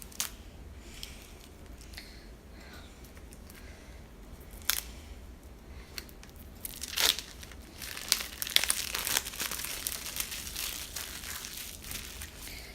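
Paper wrapping torn off a tarot deck box by hand, with crinkling and ripping bursts growing louder and busier in the second half, close up with no talk.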